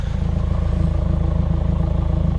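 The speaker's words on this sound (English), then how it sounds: "You can still hear the exhaust a little bit." A Subaru WRX with its muffler and resonator deleted idles warm, its exhaust giving a steady, even low burble that pulses rhythmically and stays close, with no talk.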